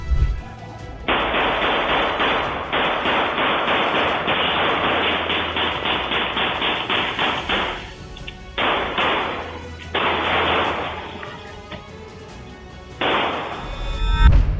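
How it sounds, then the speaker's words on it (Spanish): Loud, rapid bursts of gunfire in long sustained volleys during a shootout between criminals and police, broken by short pauses, close and harsh with no voices. "Es increíble cómo los disparos impactan en la parte superior de la camioneta"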